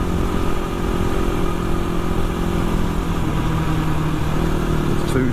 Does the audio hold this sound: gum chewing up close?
no